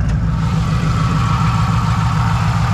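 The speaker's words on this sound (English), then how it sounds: "As you can hear, it's got a nice set of comp cams on it." A supercharged 3-valve Ford Mustang V8 with a stage 2 Comp Cams camshaft and a smaller blower pulley idles outdoors nearby, a loud, steady, deep lumpy rumble with no pauses.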